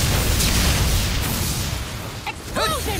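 A loud explosion spell from the action RPG Tales of Arise booms in a dense, rumbling burst during a battle, followed by sharp chirping sweeps of game effects near the end.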